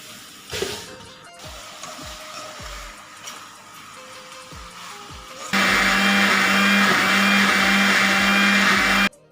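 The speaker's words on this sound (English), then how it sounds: "the sharp blades of mixer grinder starts to rotate, which mixes and grinds the ingredients" A kitchen mixer grinder spins its sharp blades through ingredients. Light clattering comes first, then the motor kicks in with a loud, steady, close whirring roar that holds to the end.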